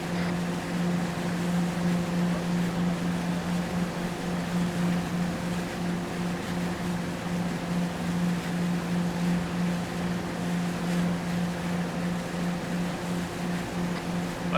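A boat engine drones steadily and loudly in ARMA 3, a constant motor hum with water and wind noise washing around it, unbroken and with no talk.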